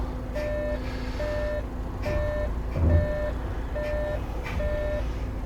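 Repeated reversing beeps sound from a coach backing slowly, six or so evenly spaced tones over a steady engine drone, with a brief low thump midway; no one speaks.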